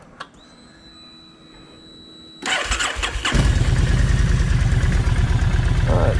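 A Kawasaki Vulcan 1600 motorcycle with a wet plug problem whines briefly, then cranks in a short burst and catches, settling into a loud, close, throbbing idle.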